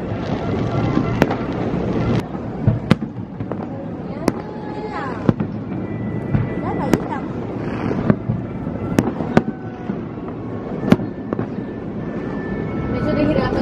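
New Year fireworks pop and bang at a distance, sharp cracks scattered irregularly over a steady crowd-like hum, with people talking now and then.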